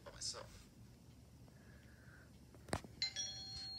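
Doorbell ringing indoors, a faint electronic chime at the start and another bright ding near the end, with a short voice and room sounds between them.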